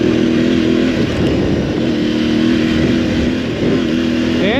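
An Aprilia Tuareg 660 motorcycle engine drones steadily up close, recorded on board while riding, a throaty continuous hum with slight changes in revs, ending with a brief rise in pitch.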